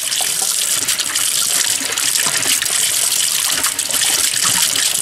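A shower tap runs hard and steady, a loud, close, unbroken hiss of spraying water with no talking.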